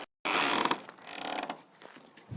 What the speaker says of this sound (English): He walked up to the door and opened it.